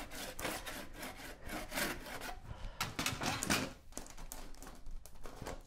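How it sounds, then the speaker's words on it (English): A handsaw trims the last bits off a cast concrete sundial post, giving quiet, uneven rasping strokes close by with short breaks between them. "let's see if I can use a bit of a handsaw just to get these final bits off"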